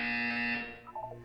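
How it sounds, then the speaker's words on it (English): A loud, steady electronic buzzer from the video game Portal 2 sounds alone for about half a second, then fades into softer tonal game sounds. "You will hear a buzzer."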